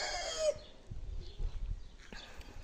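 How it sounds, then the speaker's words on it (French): A rooster in a flower garden gives a crow that cuts off at half a second, loud but slightly distant, followed by quiet outdoor rustling and low background noise. "Le coq est en forme."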